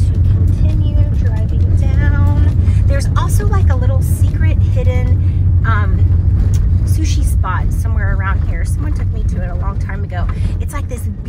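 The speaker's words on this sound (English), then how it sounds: "So we are just going to continue driving down." Car driving through the Marina Vallarta neighborhood of Puerto Vallarta, a steady, loud engine and road rumble filling the whole stretch while someone talks continuously over it.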